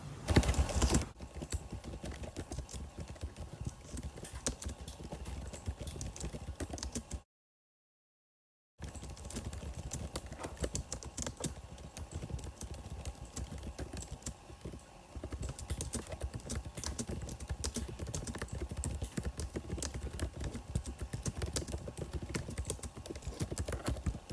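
Steady, fast keystrokes clatter on a computer keyboard close by for most of the span, broken by a brief silent gap, with no speech.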